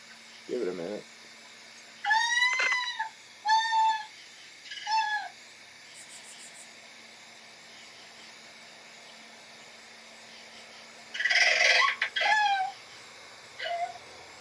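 An eastern screech owl calls in a series of short, wavering, whinny-like bursts, several in quick succession, then a long quiet gap before a louder cluster of calls and one last brief note.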